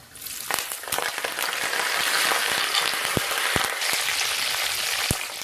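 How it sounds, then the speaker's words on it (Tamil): Mustard seeds, fenugreek and curry leaves hitting hot oil, a loud dense crackling sizzle that swells and holds, with sharp pops and spits standing out near the end. "கடுகு வெந்தயம் போட்டதுக்கப்புறம் கருவேப்பிலை போட்டுப்போம்"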